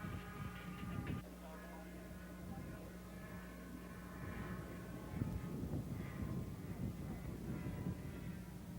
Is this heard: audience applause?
no